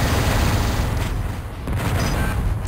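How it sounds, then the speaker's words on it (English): A fusion cannon firing in the Descent game, a loud, thick rumbling blast with booming bursts that dip briefly midway, then swell back with a few faint electronic chirps on top. "Yeah, fusion cannon."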